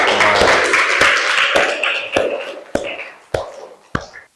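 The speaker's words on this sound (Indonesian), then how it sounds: "Beri aplaus." A class of students applauding together, a dense burst of clapping that thins out into a few sharp scattered claps, with faint voices in the background.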